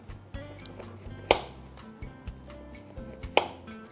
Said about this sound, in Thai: แล้วก็หั่น นะครับ หั่นเป็นชิ้นเล็กๆนะครับ